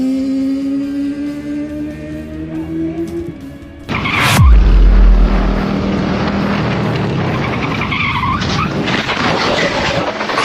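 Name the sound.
motorcycle sliding out in a track day low side crash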